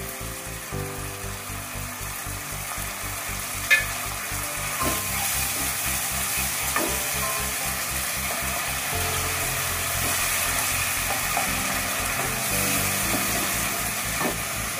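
Grated tomato and strained yogurt frying with onion and garlic for chicken keema, a continuous close sizzle and hiss with occasional scraping stirs and faint ticks, steady throughout.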